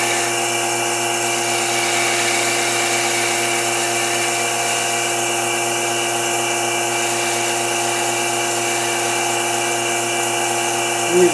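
Wood spins on a lathe while a half-inch bowl gouge takes a light shear cut on a yarn bowl, giving a loud, continuous, even whir and hiss that holds steady throughout without pause.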